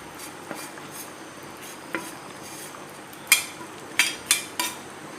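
Fried onions are stirred into chicken do pyaza in a pan, giving soft scraping and a few sharp clinks of a utensil against the metal, with faint sizzling underneath.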